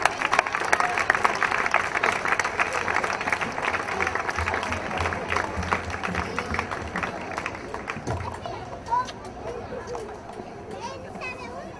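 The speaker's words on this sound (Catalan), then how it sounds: "I també li dediquem un fort aplaudiment." Audience applause at a radio station's tenth anniversary party in Sants, Barcelona, with an award being presented: a long, full round of clapping from a crowd, with chatter and hubbub mixed in, easing off near the end.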